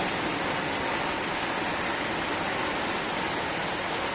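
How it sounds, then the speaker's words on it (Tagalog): Steady, dense rain falling outside during cooking, a constant broadband hiss that stays even and unbroken throughout with no talk. "umuulan na naman dito sa amin"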